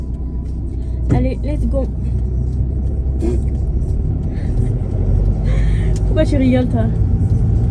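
Inside a mother's car while it drives, a steady low engine and road rumble runs throughout, with people talking and laughing over it.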